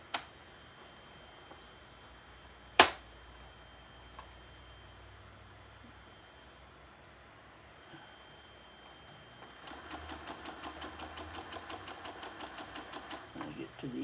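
A sewing machine stitches a quilted cow head, starting near the end as a rapid regular close clatter after quiet with a few isolated clicks.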